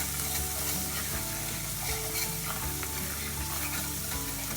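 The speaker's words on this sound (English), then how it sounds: "just make sure that you give them a couple of minutes just to all fry in the oil" Garlic, ginger and spices frying in oil over low heat for a cauliflower and lentil curry, a steady close sizzle and crackle running unbroken throughout with no voices.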